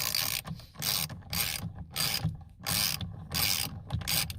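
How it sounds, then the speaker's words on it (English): Steering wheel puller being turned on a 1991 Dodge Dakota with cruise control, a close run of rhythmic ratcheting clicks in regular bursts with short pauses between strokes, no voices. "as you're using the puller, it should just loosen right up."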